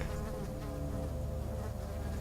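Flies buzzing in the horror game Amnesia: The Dark Descent, a steady, droning insect hum that runs evenly through the whole stretch with no talk over it.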